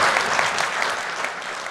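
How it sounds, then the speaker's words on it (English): Audience applause at a business presentation, greeting the company's Chief Marketing Officer: a dense, steady wash of many hands clapping together, loud and sustained without voices on top. "now I want a round of applause for my wife"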